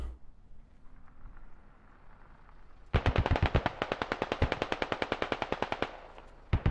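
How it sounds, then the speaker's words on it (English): Sustained automatic gunfire from a squad in the military shooter Squad, a rapid steady burst of close, loud machine-gun shots lasting about three seconds after a quieter stretch, then a single final shot, no talk over it. "U.S. is starting to shoot at them"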